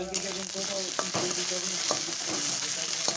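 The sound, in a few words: sautéing ginger-cumin paste with chilli and turmeric powder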